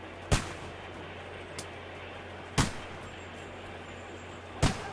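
Three sharp, loud gunshots ring out at irregular intervals over steady outdoor ambience in the medieval game Kingdom Come: Deliverance 2, each a single crack with a short decay, plus a fainter pop between the first two.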